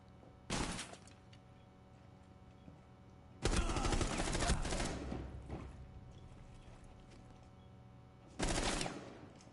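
Gunfire shoots through a wall in Rainbow Six Siege, in three loud bursts: a short first volley, a longer sustained one that fades out, and a final brief burst, all over a low steady game background.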